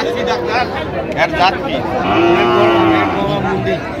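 Young Sahiwal heifer and other cattle mooing at a crowded livestock market in Sylhet, with a long, loud low moo near the middle and people chattering and bargaining around it.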